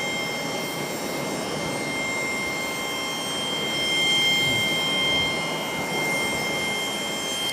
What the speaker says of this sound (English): now this one, the 737 arrival